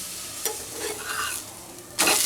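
Breakfast food fries in a home-kitchen pan with a soft, steady sizzle, broken by a brief stir near the start and a louder burst of hissing at the end; no one talks.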